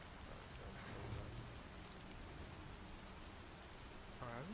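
Steady rain pours in the Star Citizen game, a dense even hiss running throughout with a faint low rumble beneath it.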